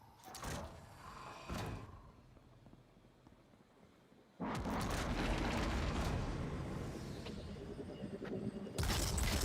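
Rocket launcher explosions from Destiny 2 erupt in bursts: a couple of short blasts early, then a long, loud roaring detonation sustained for several seconds, with another sharp blast near the end.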